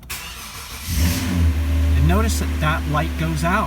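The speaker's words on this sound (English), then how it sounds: "So now I'm going to start the car" A car engine cranks and catches at about one second, then settles into a steady loud idle that runs to the end, with someone talking over it throughout.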